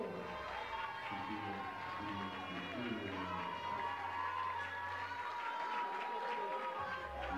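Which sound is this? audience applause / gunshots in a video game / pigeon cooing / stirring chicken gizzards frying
audience applause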